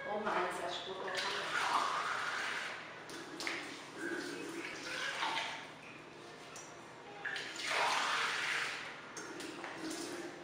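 Roughly two glasses of water poured into a cooking pot holding a little oil, for a salpicão recipe; two splashy pouring bursts, the first near the start and another toward the end, with a person talking over them.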